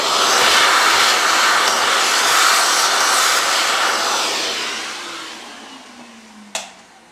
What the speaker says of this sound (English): And then I'm going to vacuum out the rest of ground beans.